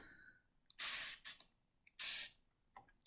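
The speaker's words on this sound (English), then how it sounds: "let's go ahead and spray this" Two long, loud bursts of water spray aimed at magnetic false lashes, each hissing for under half a second, separated by a quieter pause with small clicks of the spray bottle trigger.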